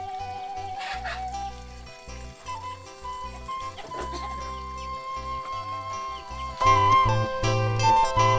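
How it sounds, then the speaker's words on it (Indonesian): Pelung chickens crowing and clucking in a Sukabumi village setting, with sustained tonal calls and repeated clucks layered over a busy, steady background, louder toward the end. "Ayam pelung sana."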